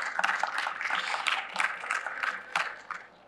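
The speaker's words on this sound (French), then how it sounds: "Je vous demande un tonnerre d'applaudissements pour Aïcha Johansen" An audience applauds at a forum on football development in Africa, brisk clapping with distinct hand claps rising together and tapering off near the end.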